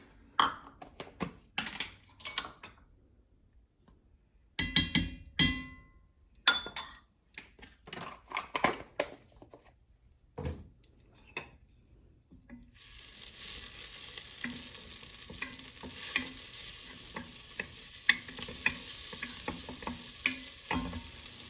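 Vegan fake meat in a pot with oil and butter: the first half is sporadic clatter of pan and utensils, then a steady, moderate browning sizzle takes over with occasional stirring clinks.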